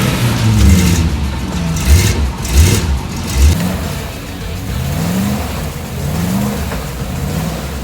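A vintage off-road truck engine revs hard in repeated rising bursts while straining to pull a stuck Blazer free, loud and close, then settles into a lower steady drone with more surging revs.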